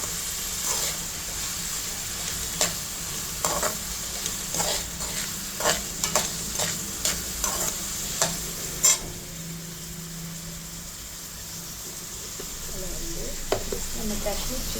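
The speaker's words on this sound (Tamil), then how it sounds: "நல்லா ஃப்ரை பண்ணுங்க" Food frying in a pan after being partly cooked through, a steady sizzle under a run of sharp spoon-and-pan stirring scrapes, close and fairly loud.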